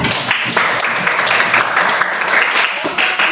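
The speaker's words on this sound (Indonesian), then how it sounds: "Oke, tepuk tangan." A classroom applauds during a lesson on Pancasila values, with dense, steady clapping from many hands that fills the whole moment at close range.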